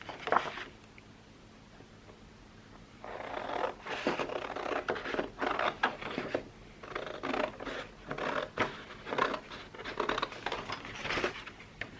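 Scissors cut through paper while a journal page is made, giving a series of soft, close snips and rustles. Irregular crinkling and handling noises follow a quiet start.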